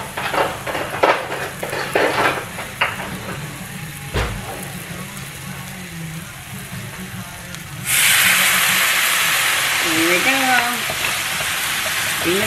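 Rainbow chard leaves steam with a quarter cup of water in a hot pan, a sudden loud steady hiss and sizzle bursting in partway through after quieter kitchen handling and clatter.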